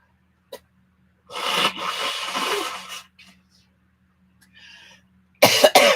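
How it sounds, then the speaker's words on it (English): One long, noisy nose blow, close and loud, lasts about a second and a half, followed by faint shuffling and a brief burst of sound. "I'm about to blow my nose"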